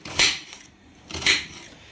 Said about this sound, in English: Режу лук и кладу его